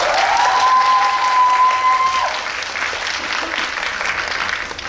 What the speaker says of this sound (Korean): 아카소에이지 배우님께 박수 부탁드리겠습니다.